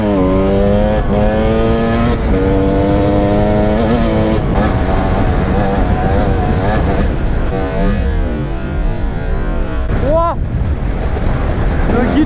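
A KTM dirt bike engine revving loudly up close on a forest track, droning and climbing in pitch with gear changes and wind buffeting over the microphone.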